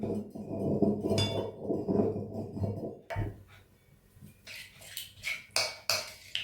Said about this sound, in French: on ajoute environ un demi-verre d'eau et on mélange bien le tout